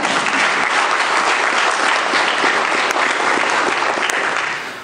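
A church congregation bursts into sustained, loud applause during a sermon, a dense wash of many hands clapping steadily for about five seconds before easing slightly at the end.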